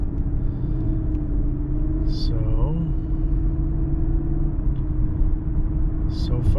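Steady low road rumble inside a Lexus LS460 driving after front control arm replacement, continuous and even throughout, with a voice talking over the cabin hum.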